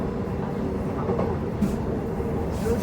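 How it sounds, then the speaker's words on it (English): A Midland Line commuter train in Perth rumbles past close by, a steady heavy rolling roar throughout, heard from nearby. "There goes a Midland Line train."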